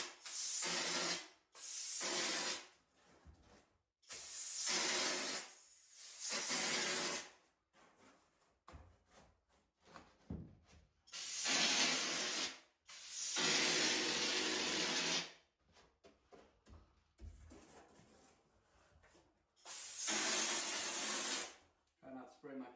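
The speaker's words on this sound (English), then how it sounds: "we're gonna start spraying our texture" A sprayer blasts wall texture during a bathroom remodel in repeated loud hissing bursts of one to three seconds each, separated by quieter gaps in which faint speech and handling noises can be heard.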